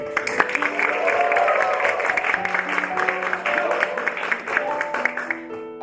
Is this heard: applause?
yes